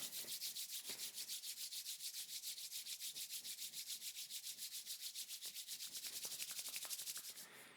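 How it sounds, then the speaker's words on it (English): Palms rubbed briskly together in steady back-and-forth strokes at the close of a meditation, a close, continuous dry swishing with an even pulse that builds slightly before stopping. "immediately begin to rub the palms together"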